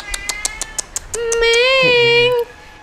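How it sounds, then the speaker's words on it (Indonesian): Cats meowing at a cat shelter, one long, loud drawn-out meow rising and falling near the mic after a few short sounds, with a second lower cat voice briefly joining. "Ya sudah pasti setiap sisi dimanapun ada kucing."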